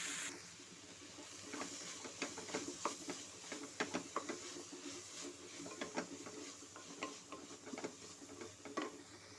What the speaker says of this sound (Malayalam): അല്പം വെളിച്ചെണ്ണ ഒഴിച്ച് ചെറുള്ളി, സവോള, പച്ചമുളക് എന്നിവയിട്ട് നന്നായിട്ട് വഴറ്റുക